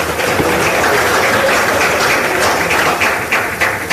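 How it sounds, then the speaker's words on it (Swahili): An audience at a press event in Tanzania claps loudly and continuously for a government minister, a dense steady roar of hands filling the room without pause. "Naomba tumpigie makofi mengi sana."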